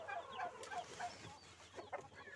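Heritage chickens on a Mindanao farm cluck softly in the background, with faint scattered calls over a low ambient hum and no voices.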